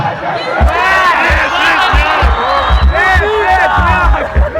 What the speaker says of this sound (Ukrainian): Дівчата все більше кричали.